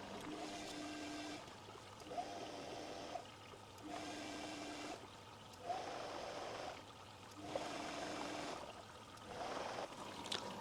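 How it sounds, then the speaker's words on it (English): A washing machine fills with water in repeated bursts, a soft steady rushing and trickling flow that starts and stops at regular intervals, faint and alone. "Now the machine is going to go into the filling procedure"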